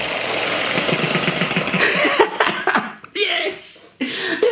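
An ET6 hit and miss stationary engine, fresh from a valve repair, runs with a rapid regular chugging beat that breaks into uneven bursts and pauses, close and fairly loud.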